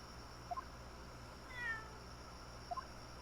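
A cat in the Great Ace Attorney video game gives two short, faint meows about two seconds apart over a low, steady background hum.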